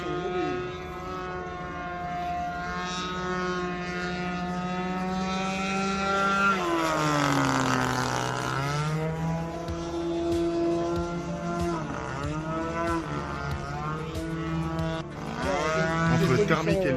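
Electric RC model airplane, a 6S-powered aerobatic plane, whining overhead with a rising and falling tonal pitch as it passes, moderately loud and continuous, with people talking faintly in the background.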